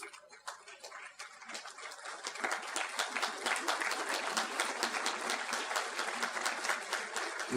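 Audience applause at a county State of the County address, starting sparse and swelling into steady, sustained clapping from a large crowd in a hall, heard somewhat distant and without talk over it.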